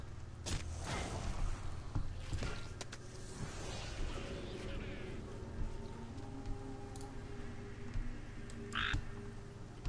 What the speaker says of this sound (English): Now leave that frog alone.